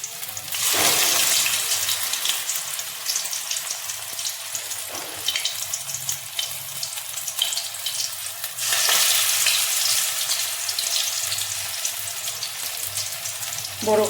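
Coriander leaf fritters frying in hot oil, a loud close sizzle that swells and eases in waves, with brief stirring and scraping sounds and no talk.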